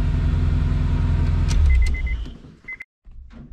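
A Honda S2000 project car, just started for the first time, runs with a loud, deep idle rumble for about two seconds before the engine note cuts off, leaving a short silence and a few faint clicks.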